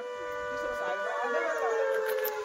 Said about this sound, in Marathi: काही झालं दुसऱ्यांदा सायरन वाजलेलं आहे.